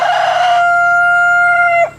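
A young rooster crows once, loud and close: a long sustained tonal call held steady for almost two seconds, then cutting off sharply at the end, with no other sounds around it.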